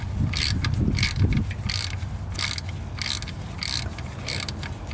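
A wrench ratchets with a rapid clicking as it tightens the oil drain plug on a Cadillac CTS-V, coming in repeated close bursts over a low steady hum.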